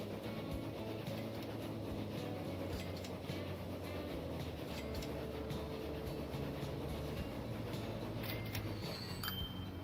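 In Transport Fever 2, a simulated 1850s-era passenger train runs as a continuous low rolling rumble with a steady wash of rail noise and faint clicks, held at an even level without speech.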